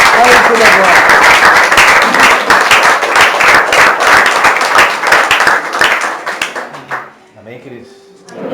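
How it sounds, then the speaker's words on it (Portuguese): A church congregation claps loudly and briskly after a sermon, a dense burst of applause that fades out within about seven seconds, followed by faint murmuring. "dê um aplauso ao Senhor"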